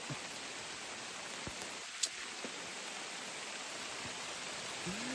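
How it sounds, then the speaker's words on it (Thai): Heavy rain comes down on a border forest seen from a raised hunting hide, a dense constant hiss of drops on leaves with a few faint knocks scattered through it. "ฝนตกแรงึ้นแล้ว"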